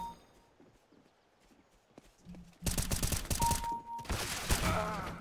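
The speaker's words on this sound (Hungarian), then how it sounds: "egy lövés sikerült leadni Young Black barátunkra." Rapid bursts of gunfire from a round of Counter-Strike: Global Offensive, loud and dense, arriving in two clusters after a quiet stretch of faint game ambience.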